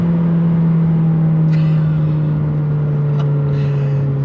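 A 2021 McLaren GT engine revs steadily and loudly at close range, a sustained high-pitched drone climbing toward over 8,000 RPM with a strong steady tone throughout.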